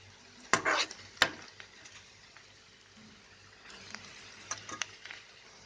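Chopped onion, green chillies and garlic cloves hitting a hot pan, a couple of sharp clatters and stirring scrapes over a faint sizzle, quiet and close with no talking.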